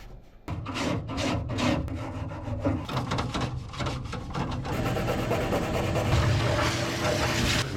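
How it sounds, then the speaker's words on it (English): Scrubbing on a car body panel, a close, continuous rough rasping with steady back-and-forth strokes throughout, with no talking. "And I'm going to scrub some stuff."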